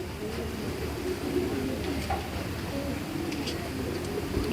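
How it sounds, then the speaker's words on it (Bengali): Expensive fancy pigeons cooing steadily in a coop, several birds producing low continuous throaty coos with a few faint chirps above, close by and without talk. "অনেক দামি কবুতর ভাই এগুলো"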